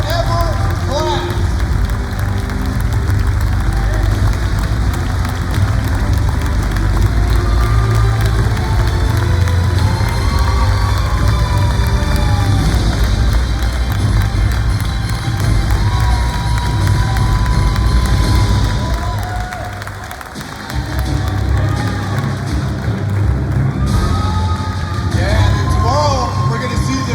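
A big crowd at a Pro Football Hall of Fame gold jacket ceremony cheers and claps loudly and continuously, with shouts and whistles rising over the roar. The noise dips briefly near the end, then swells again.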